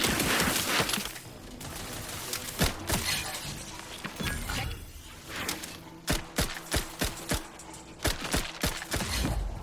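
Gunfire in the sci-fi role-playing shooter The Outer Worlds 2, a volley of sharp shots with breaking, shattering impacts. It starts as a dense barrage, then settles into a quicker run of evenly spaced loud bangs.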